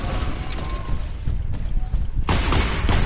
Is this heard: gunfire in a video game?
yes